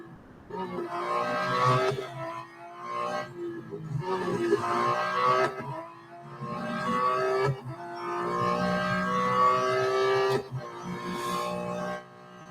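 Porsche 911 GT2 RS Clubsport engine in the racing game Real Racing 3, a loud steady drone rising and falling through repeated gear shifts, with sharp breaks between pulls, close and alone.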